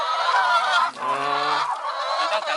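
A flock of red chickens fills the air with loud, overlapping calls, a dense continuous chorus of close, squawking voices with a few lower notes running beneath.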